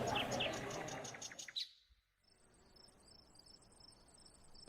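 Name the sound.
crickets chirping in bushes at night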